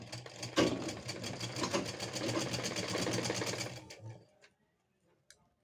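Sewing machine stitching double-folded blouse strips, a fast steady mechanical whir with rapid ticking for about four seconds, then stopping with a faint click.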